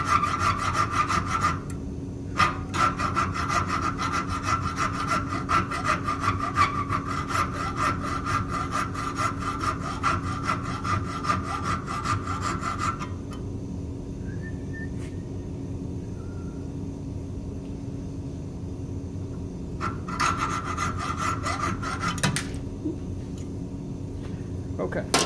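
A hacksaw cutting through the metal nose support of a nut gage in a workshop, a close, steady rapid back-and-forth rasping with brief pauses, over a constant low machine hum.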